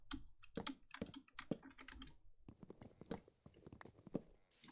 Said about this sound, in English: I have a really clacky keyboard. I'm kind of realizing that now that I can hear it.